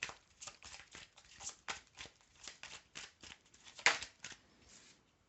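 Tarot cards laid down one after another on a surface, a series of soft, crisp slaps and flicks at an irregular rhythm, close and quiet with no talking.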